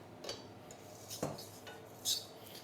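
A spoon stirs chocolate fondant batter in a bowl, giving three sparse, faint clinks against the bowl with quiet gaps between them and no voices.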